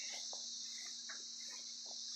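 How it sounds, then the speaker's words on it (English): Brood X periodical cicadas calling in southwest Ohio: a steady, high-pitched insect drone that hums on continuously, distant and faint, with no voices. "brood 10 periodical cicada emerging here in southwest Ohio"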